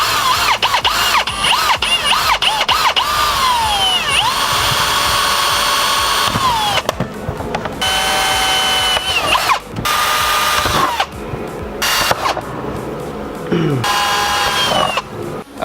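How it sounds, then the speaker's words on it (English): Power drill boring holes for Mini Cooper mud flaps, repeated whining bursts that rise and fall in pitch with short pauses between holes, loud and close, with a voice briefly heard. "so now we're just going to finish drilling the rest of the holes"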